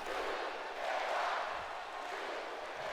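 A wrestling video game arena crowd roars in a WWE SmackDown match, a dense, steady wash of cheering at moderate volume that swells briefly midway.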